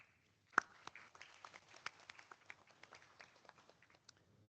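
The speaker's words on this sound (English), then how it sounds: "Let's give them a round of applause." Scattered audience applause at a transportation conference session, a sparse, faint patter of individual hand claps starting abruptly and thinning out over a few seconds.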